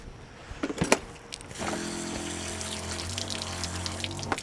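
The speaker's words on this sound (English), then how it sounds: "I want to definitely give that a good rinse" Water runs steadily from a pump-fed tap while dirt-laden vegetable stems are rinsed at a remote Kimberley bush campsite, a continuous close gushing flow with a faint mechanical hum, after a few brief knocks.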